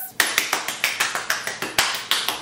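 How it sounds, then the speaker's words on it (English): A single person clapping alone at home, about a dozen sharp, close claps in a quick, slightly uneven rhythm. "round of applause"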